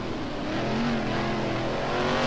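A sprint car, number 26, racing around a circuit with Wayne Gardner driving, its engine a steady, unbroken roar held at high revs for the whole stretch, with no talk over it.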